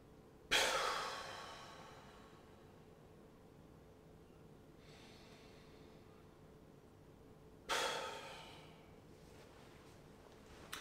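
Slow deep breathing exercise while lying on the floor with hands flat, two long audible exhales several seconds apart, each a breathy rush that fades, with a soft inhale between, close and quiet.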